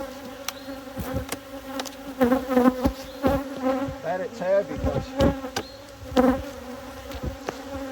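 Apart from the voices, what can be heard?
honey bees buzzing in opened beehive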